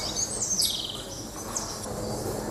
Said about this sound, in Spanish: Los pájaros que pululan por el jardín nunca se van muy lejos.